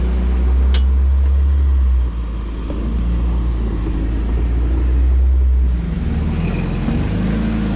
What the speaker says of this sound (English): Riding the Samurai now.